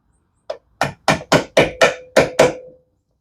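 Hammer blows on a metal locking tab of a VW ball joint beam adjuster, eight sharp ringing metallic strikes in a quick even rhythm, close and loud with nothing else heard.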